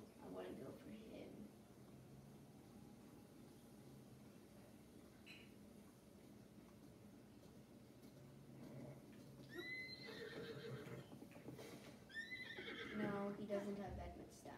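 Horses in a video game whinny and neigh several times over soft ambient background, the calls rising and falling, with hoof clops and a voice talking at moments.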